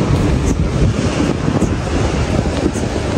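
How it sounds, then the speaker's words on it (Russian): Strong wind buffets the microphone with a loud, continuous roar and rumble, with no voices. "Ветра, ветра."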